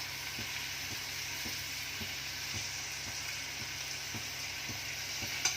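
Oil sizzling in a pan while cooking dried prawn masala, a steady hissing fry with faint regular stirring taps underneath, close and even throughout.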